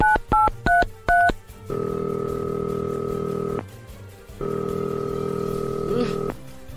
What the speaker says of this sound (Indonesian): Coba aku telepon Rehan dulu nih